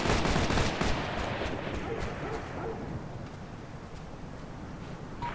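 Heavy gunfire and explosive rumble in the combat game Operation Flashpoint: Red River, a dense, continuous barrage that is loudest at the start and then holds at a steady roar, with faint distant voices underneath.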